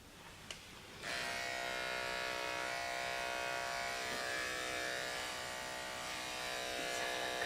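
Electric dog clippers fitted with a number 4 FC blade start up and run with a steady, close, continuous buzz while grooming a Labradoodle, with no talk over it.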